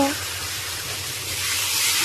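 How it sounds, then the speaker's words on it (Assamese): Continuous sizzling of chicken frying with spices in a hot pan, a steady close hiss with a low hum beneath. "সেই মাংসখিনি ভালদৰে মই ভাজি ল'ম"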